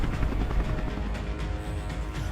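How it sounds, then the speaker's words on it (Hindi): Military helicopter during a naval drill at sea, a steady broadband rotor and engine roar filling the whole stretch at a constant level, with no voices. "गोला बारूद लेकर जवान हेलीकॉप्टर से जहाजों पर उतरे"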